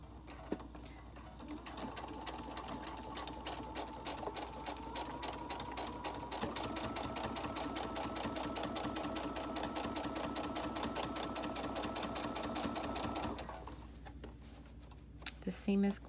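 A sewing machine stitches all the way around the band of a three-layer pocket mask made of woven and knit fabric. The stitching is a long, continuous rapid whir, close and steady, with brief starts and stops at either end.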